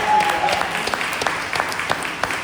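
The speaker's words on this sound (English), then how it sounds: "You ought to be applauded." An audience applauds the men of Man Village, a community group of nearly two hundred men, with steady, dense clapping that starts loud and continues evenly throughout.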